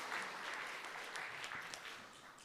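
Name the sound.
congregation applauding the church choir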